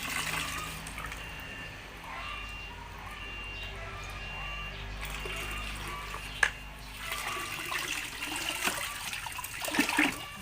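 Water trickles and pours gently into a styrofoam fish tank set up for raising fish, a soft steady flow at low level with a few small splashes near the end.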